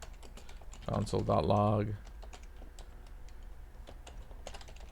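Soft, rapid keystrokes of code being typed on a computer keyboard, a quiet patter running through the clip around a short burst of someone speaking.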